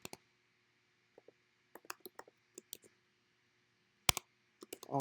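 Sparse keystrokes on a computer keyboard while writing Swift code, coming as scattered single clicks and short clusters with pauses between them, close and quiet, followed by a brief louder burst near the end.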